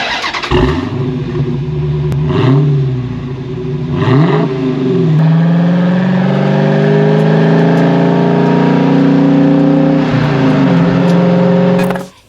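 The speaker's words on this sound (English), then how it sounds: "Nice big exhaust tips to make sure you can hear that V8 sound." A 2023 Dodge Challenger R/T Scat Pack Widebody's deep V8 engine barks loudly through its big exhaust tips, revving up in several sharp blips, then holding a long, rumbling high rev before dropping off.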